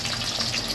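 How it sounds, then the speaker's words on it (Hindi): Chapli kebab patties, Peshawari style, frying in hot oil over a low flame, giving a steady dense sizzle and bubbling that runs unbroken and close through the short moment, with no voices. "ऑयल गर्म हो चुका है। अब इसमें खड़ा कर दी हमने वो टिक्कियाँ जो बना के रखी हुई थी"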